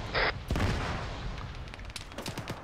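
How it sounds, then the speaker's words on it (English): A convoy explodes in a military video game: a sharp blast about half a second in, followed by a rumbling, crackling aftermath with scattered distant pops, fairly faint overall. "the convoy just blew."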